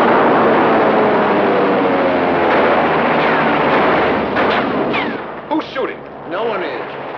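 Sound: recorded movie soundtrack of battle gunfire

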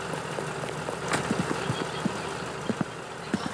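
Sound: car engine in Roblox video game

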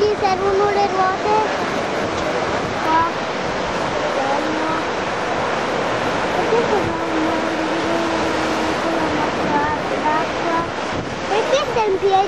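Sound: sea waves at a beach

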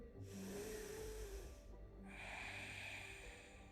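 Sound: deep inhale during yoga

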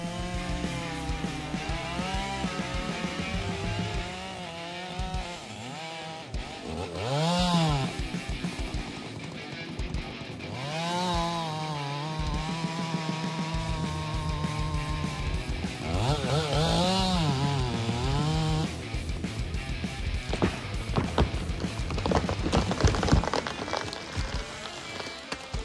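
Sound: MS-881 chainsaw cutting large trees

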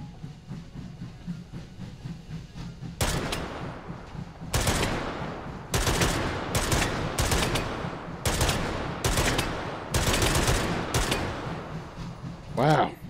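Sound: light machine gun firing in the VR video game Hot Dogs, Horseshoes & Hand Grenades

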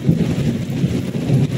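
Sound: thunder rumbling during heavy rain

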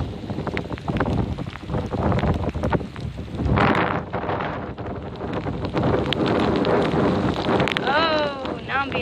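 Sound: strong storm wind with sideways rain

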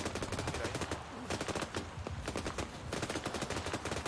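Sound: heavy-calibre gunfire in the video game Arma 3

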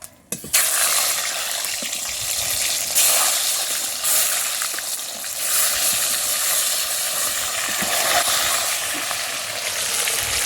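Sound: eggs frying in hot white oil

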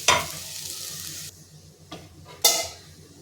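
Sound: spices and salt being sautéed in a pan

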